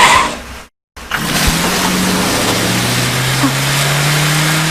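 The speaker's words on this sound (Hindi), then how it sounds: "चला गाड़ी।" After a sudden cut to silence, a car engine roars and revs up as the vehicle pulls away, its pitch rising steadily in a loud, sustained sweep.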